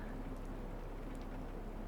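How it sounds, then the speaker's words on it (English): Steady rain falls on a greenhouse at night, a soft, even hiss of drops that stays constant and gentle throughout with no voices. "The rain falls and falls, and the greenhouse holds and holds and holds."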